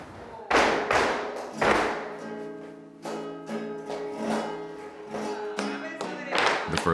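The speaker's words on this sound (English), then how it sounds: "There's a captivating sound of the music and the movements of the dancers. This is the flamenco." Flamenco performance in Seville, with sharp hand claps and stamping dance steps over guitar-like music, loud bursts of percussive hits recurring irregularly amid a lively sustained musical backdrop.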